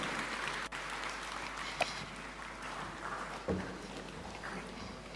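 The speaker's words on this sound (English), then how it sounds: "Why don't we put our hands and give him a warm welcome with a clap as he comes to make his remarks" Audience applause welcoming a speaker at the Africa Fertiliser and Soil Health Summit, a faint, distant, steady patter of clapping across a large room with a couple of brief knocks.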